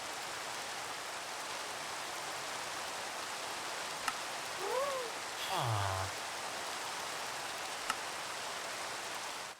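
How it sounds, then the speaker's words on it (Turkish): Steady, even rain hiss fills the whole stretch, with a couple of brief clicks and a short whistling chirp partway through. "yağmur sesini kıstık"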